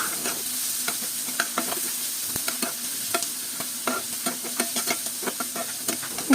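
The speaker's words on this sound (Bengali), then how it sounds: "এবং আবারও ভালোভাবে নেড়ে নিচ্ছি।" Prawns frying in oil with chopped onion and green chilies, stirred with a spoon: a steady close sizzle runs throughout, broken by frequent sharp scraping clicks against the pan.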